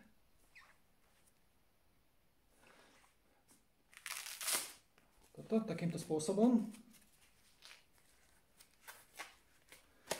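The Velcro strap on a J4K Elite Grip Hybrid Neg goalkeeper glove is peeled open with a brief, loud ripping rasp, surrounded by someone talking and quieter handling rustles.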